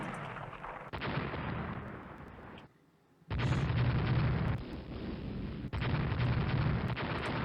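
Warship guns fire in a naval battle in Rule the Waves, a series of loud booming blasts with heavy rumbling tails. There is a short quiet break midway, then the barrage resumes.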